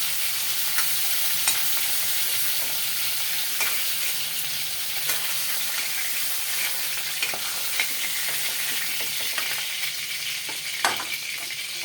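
A fish head frying in hot oil gives a constant, dense crackling sizzle with small pops and occasional stirring, close and steady throughout, with no talking.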